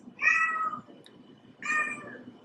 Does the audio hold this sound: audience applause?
no